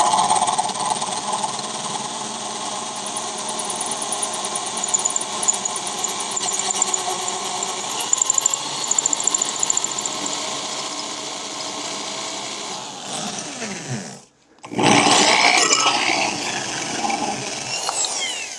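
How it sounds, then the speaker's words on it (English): Steady, loud whine of a power drill boring a hole into a metal part, holding an even drone for about fourteen seconds, dipping briefly to a stop, then spinning up again. "we'll just drill the hole down to the depth of the masking tape"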